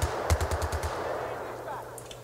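Machine gun fire in the Battlefield 3 video game: a rapid burst of about eight sharp shots with a stutter near the start, then a fading tail of ambient noise.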